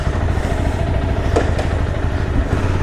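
A 2012 Honda CBR250 motorcycle engine running close by after starting up, a steady throbbing rumble with a couple of brief mechanical clatters.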